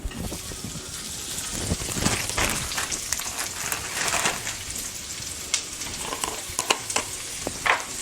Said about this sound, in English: I'm going to go ahead and saute more onions.